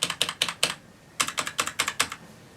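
Keystrokes on a Noppoo Lolita Spyder mechanical keyboard fitted with PBT keycaps: a quick burst of four clacks, a short pause, then a rapid run of about eight more, close and crisp.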